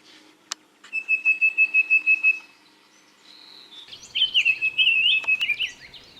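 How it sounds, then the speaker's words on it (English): A young male summer tanager sings clear whistled phrases in two bursts, near and fairly loud, with a brief pause between songs and no talking. "So there's the male summer tanager singing"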